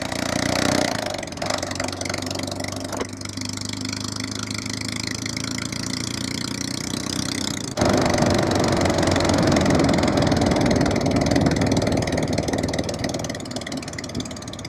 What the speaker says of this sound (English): God, it sounds like a damn dirt bike.